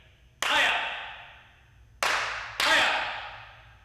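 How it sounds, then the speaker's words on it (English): Three sharp hand claps in a beginners' taekwondo class counting out a form, one alone followed after a pause by two closer together, each ringing briefly in a roomy space. "Let's clap it out."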